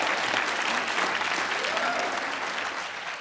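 Audience applause for actor Gary Oldman and director Joe Wright at a film discussion event, a steady dense wash of clapping that fades slightly toward the end, with no voices on top.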